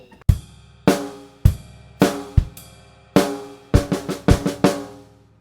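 Two bars of a drum kit groove into a snare fill: evenly spaced loud kick and snare hits, then a quicker cluster of strokes near the end, played close and alone.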